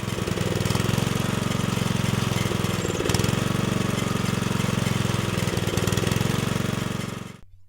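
A small engine on a farm rotary tiller runs steadily with a loud, even, rapid chugging drone that holds for several seconds and then cuts off abruptly at the end.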